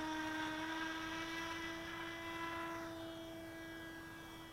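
An RC model aircraft flying over Lake Maggiore gives a steady high motor whine, close at first and then easing off slightly as it moves away, with no voices.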